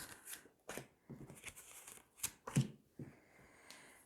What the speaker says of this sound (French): Et je vais tirer 3 cartes.